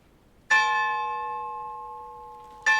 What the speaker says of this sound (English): The bell, Ludlow